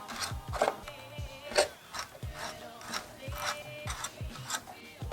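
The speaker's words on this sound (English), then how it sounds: "we're just going to use the reamer just to do the center hole at the front on the marking" A hand reamer bores a center hole in a clear polycarbonate Bittydesign Iron RC truck body, giving close, repeated rasping scrapes at a steady rhythm of about one stroke per second, with no speech.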